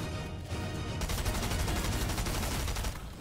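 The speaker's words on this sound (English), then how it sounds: "SMG shot me through the wall." Rapid bursts of Stinger SMG fire in Fortnite, dense and continuous after a brief lull at the start, loud and close with no talk.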